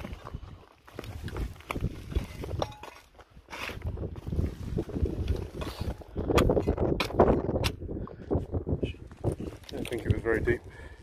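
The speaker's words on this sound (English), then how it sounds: "Sorry about the wind. It's a bit windy today." Wind gusts buffet the microphone outdoors in a field in the UK during metal detecting, giving irregular low rumbling thumps and bursts that come and go throughout.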